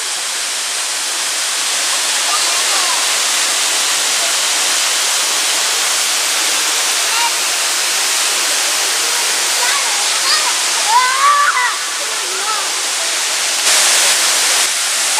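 Sandy Creek Falls in Litchfield National Park roars as a steady, loud broadband wash of falling water, with faint voices briefly audible beneath the constant rush.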